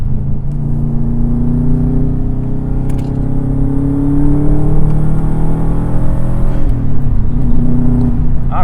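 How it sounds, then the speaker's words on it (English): Interior engine drone of a 2004 Subaru WRX tuned to 260 AWHP, loud and steady as it drives through corners, with harmonics sliding up and down as revs rise and fall between bends, no talk. "Really enjoying driving this car."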